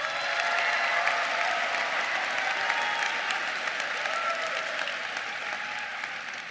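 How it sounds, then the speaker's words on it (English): A large university matriculation audience applauds peer mentors with a full, sustained wash of clapping that fades slightly toward the end, with no voices heard over it. "Somebody applaud their peer mentor."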